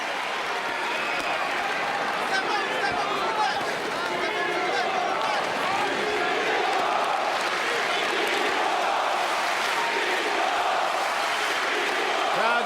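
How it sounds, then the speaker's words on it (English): A large, roaring arena crowd at a world heavyweight title boxing match between Wladimir Klitschko and Lamon Brewster chants rhythmically in a dense, continuous swell, with a commentator talking over it. "Crowd chanting, Klitschko,"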